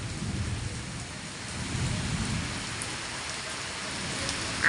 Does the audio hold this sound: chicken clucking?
no